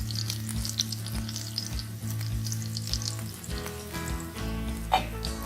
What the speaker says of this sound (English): we will be adding the chopped garlic. So we have taken around 3 to 4 garlic cloves. Stir it well.